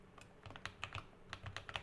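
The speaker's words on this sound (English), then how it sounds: "I custom built my keyboard and I think it sounds really good." Typing on a custom-built mechanical computer keyboard, a steady run of soft, close keystroke clicks in uneven bursts, fairly quiet and with no talking.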